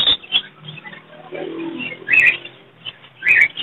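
Zebra finch breeder pair at a bird market, giving short bright chirps in a few separate bursts over a faint background of other birds and market noise.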